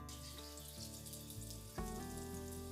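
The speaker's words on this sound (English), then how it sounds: "The flavors have been frying there for like 2 minutes or so." Star anise and other whole spices frying and toasting in a pan over a braai fire, giving a steady, even sizzle with a faint crackle throughout and a small bump in level partway through, with no talking.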